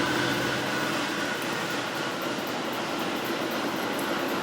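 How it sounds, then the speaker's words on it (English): A passing train heard as a steady, broad rumbling roar that fills the whole stretch without letup, fairly loud and continuous, no voices. "the train's going by."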